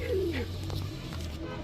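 Damascene pigeons coo nearby in soft, low, throaty warbles, a short close-up burst of cooing.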